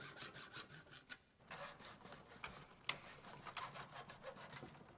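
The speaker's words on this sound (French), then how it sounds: "Avec une scie à métaux, nous allons faire une entaille dans mon tube de 1 cm de large et de 3 à 4 cm de long" A hacksaw cuts a notch about 1 cm wide and 3 to 4 cm long into a tube, giving quiet, rhythmic rasping strokes that continue steadily with a brief pause partway through.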